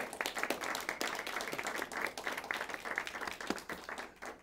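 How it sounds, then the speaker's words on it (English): An audience applauds in a steady wash of clapping, moderately distant and even throughout. "Our judge, give her a round of applause."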